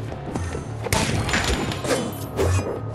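A firecracker attack in Minecraft Dungeons sounds as a cluster of thuds and crashing bangs, one sharp burst near the start and further pops through the rest of the scuffle.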